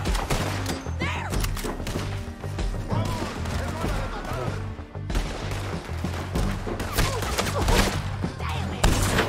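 Gunfire in a chase, with dense overlapping shots and impacts running throughout amid shouting voices and a low rhythmic score, loud and busy with no clear gaps.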